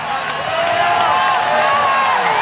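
A standing college football stadium crowd roars steadily, a dense, continuous wash of cheering that stays loud throughout while a commentator talks over it.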